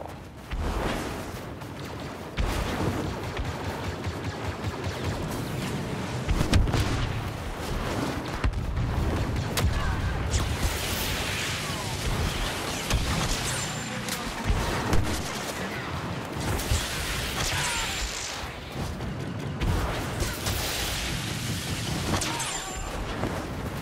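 T21 blaster fire in a large battle in the video game Star Wars Battlefront 2, repeated shots over dense explosions and booming artillery, loud and continuous.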